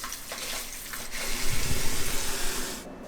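Tap water runs steadily into a sink, splashing and gushing while tomato cuttings are rinsed under it, close and continuous before cutting off near the end.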